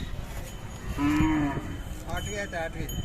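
A Khillar cow gives a single deep, drawn-out moo at a livestock fair, close and clear over a busy outdoor murmur, with faint voices and other sounds around it.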